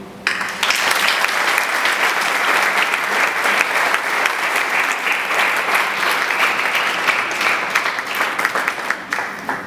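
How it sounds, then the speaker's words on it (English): Audience at a spiritual talk in New Delhi breaks into sustained applause, dense loud clapping from a crowded hall that holds steady for nearly ten seconds before thinning slightly. "So all of us, in gratitude, we clap, also offer our pranams to Swami."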